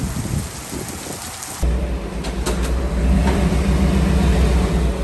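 Heavy rain pours down with rumbling thunder, a dense steady roar that grows fuller partway through, heard close from inside a 1976 FJ-40 during a storm.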